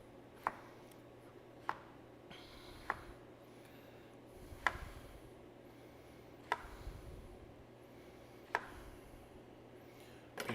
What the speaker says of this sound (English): take our plantains, chop these into 1/2-inch slices